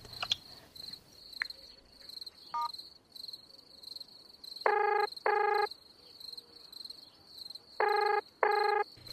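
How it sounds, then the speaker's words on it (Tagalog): An unanswered phone call rings out in paired electronic bursts, two double rings spaced a few seconds apart, over a faint steady high-pitched background hum. "Try ko nga siyang tawagan ulit."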